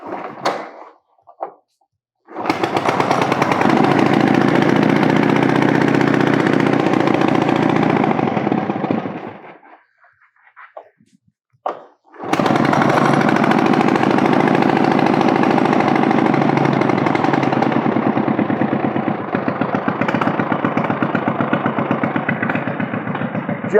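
A 1927 Indian Scout motorcycle engine fires up and runs loud and close, cutting out briefly with a few sputters before restarting and running steadily to the end, with no talk over it.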